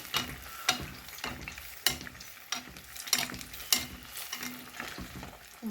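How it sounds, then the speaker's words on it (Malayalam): Special egg appam fries in hot oil with a busy crackling sizzle, punctuated by sharp pops and stirring scrapes, and no talking. "നമുക്ക് ഓ നമ്മളെ എണ്ണയിലിട്ട് കൊടുക്കാം കേട്ടോ അതായത് നോക്കൂ എണ്ണയിലിട്ട് കൊടുപ്പിക്കുന്നത്"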